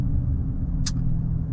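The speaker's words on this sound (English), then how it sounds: "It's a lot of traffic today." Road traffic rumbles steadily close by, a low continuous drone with one brief higher hiss partway through, and no voices.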